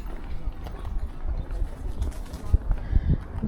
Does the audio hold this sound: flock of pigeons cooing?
yes